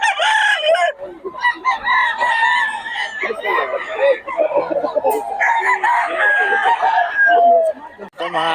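Roosters crow repeatedly and loudly, one call overlapping the next, with hens clucking in the background throughout.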